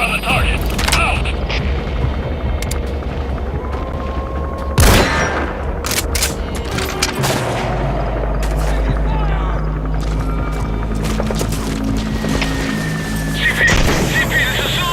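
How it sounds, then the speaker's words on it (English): Mortar fire and gunfire in Metal Gear Solid V: The Phantom Pain, with loud booms and bursts of shots over a steady low rumble and a mechanical drone, while voices talk through the action. "Lay down suppressing mortar fire on the target."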